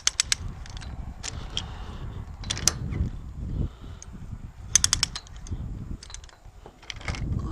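A ratchet clicks in short bursts of sharp metallic ticks while tightening a chain on a wind turbine tower, with rattling handling noise between the bursts.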